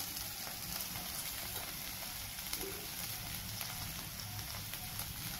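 Okra (bhendi) frying in a pan, giving a soft, steady sizzle and crackle that stays even throughout, faint and alone with no voices.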